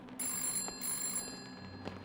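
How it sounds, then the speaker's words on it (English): A telephone rings in two bright, buzzing bursts separated by a short gap, fairly faint and set against a steady hiss of background noise. "There's the bloody phone."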